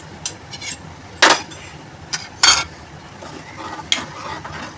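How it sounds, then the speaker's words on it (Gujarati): Spiced cowpea mixture with green chilli-coriander paste is stirred in a cooking pot for a traditional Gujarati dish, giving a few sharp metallic scrapes and clinks of a spoon against the pot over a soft background hiss, with no talking. "બધું બરાબર મિક્સ કરી દેવાનું છે."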